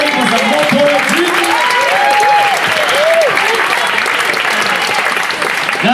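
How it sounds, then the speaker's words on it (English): An audience at a spoken-word poetry session applauds loudly and steadily for a poet who has just performed. Cheers and whoops rise above the dense clapping, and the crowd keeps the same level throughout. "a round of applause for Mama Khadija"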